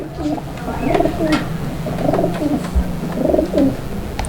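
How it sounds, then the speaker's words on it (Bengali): Racer pigeons coo close by in soft, repeated rolling calls, three or four bursts over a low background hum. "এটা হচ্ছে রেসার কবুতর"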